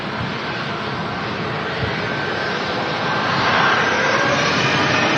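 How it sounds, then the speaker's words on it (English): Jet engines of a Ryanair Boeing 737 Max 8-200 at Manchester Airport roar in a steady, loud, broadband whoosh with a faint whine, swelling a little louder toward the end, heard alone without talk. "This is the aircraft I flew back from Lanzarote on this. Ryanair Max 8200."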